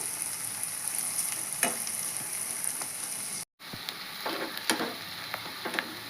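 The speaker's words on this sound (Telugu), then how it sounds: "ఉల్లిగడ్డ ముక్కలు ఈ విధంగా అయితే వేగినాయి కదా" Chopped onion pieces frying in a pan for a yogurt chutney: a steady bright sizzle with irregular stirring scrapes and soft clicks, one brief dropout midway, no voices.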